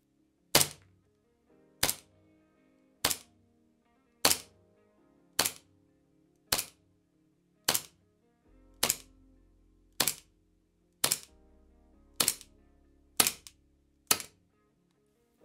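A TTI PitViper airsoft gas blowback pistol fires twelve sharp, snappy shots at a slow, steady pace of roughly one per second, each crack short and clear against a quiet background.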